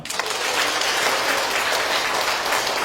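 A large lecture-hall audience claps loudly and continuously, a dense, even wash of many hands for about three seconds with no voices on top.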